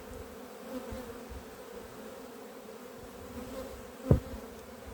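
A steady low insect hum of many honeybees droning together at an open hive, close by, with a brief louder thud or knock near the end.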